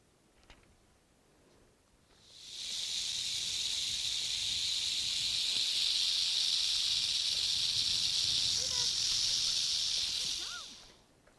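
A rattlesnake rattle sound plays from a fake snake hidden inside a hula hoop on a snake trail used for dog avoidance training. The loud, steady buzzing hiss runs unbroken for about eight seconds, with faint background noise before and after.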